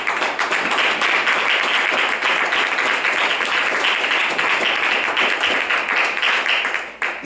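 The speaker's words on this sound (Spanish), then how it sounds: "Denle un fuerte aplauso si usted quiere." A church congregation applauds loudly and steadily, dense sustained clapping filling the whole stretch before tapering slightly at the end.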